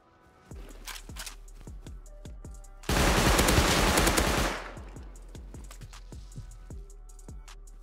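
Rapid gunfire from flame bullets in the survival video game Rust, with bursts of sharp shots repeating throughout and a dense, loud roaring blast in the middle, close and without talk.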